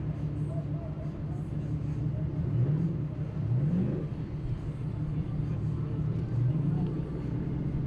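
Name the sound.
4x4 off-road vehicle engine revving while crawling over rocks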